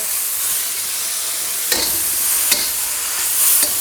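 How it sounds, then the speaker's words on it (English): Egg roll vegetables stir-fried in a hot pan with a steady, loud hissing sizzle. A few soft scraping strokes of the spatula stand out over the constant frying noise. "now basically we just want to stir fry these for about a minute"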